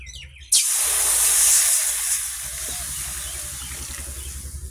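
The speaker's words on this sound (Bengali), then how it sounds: "এবারে জল দেবো" Water splashes into a hot pan of fried tomatoes and vegetables, setting off a sudden loud sizzling hiss that stays strong and then settles into a steady, slightly softer crackle.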